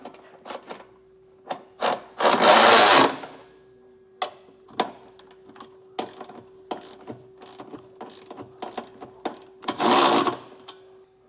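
A ratchet with a 19mm socket tightens Blue Ox trailer hitch bolts on a 2025 Toyota RAV4, giving repeated close clicking bursts with a few louder scraping rushes, working alone without talk.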